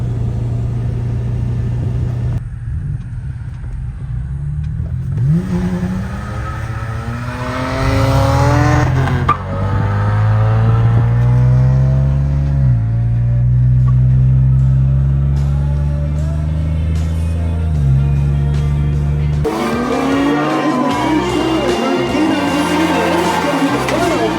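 A drift car revs hard and bounces with wheel hop on grass at the Freedom Factory, engine pitch sweeping up and down loudly up close, with voices talking over it and a rougher burst of noise near the end.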